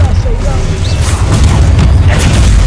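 A loud magical blast from the Confringo spell in the Hogwarts Legacy game, booming explosions and crashing debris over continuous battle noise, with shouting voices in the mix.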